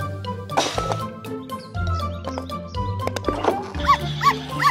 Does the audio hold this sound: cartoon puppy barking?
yes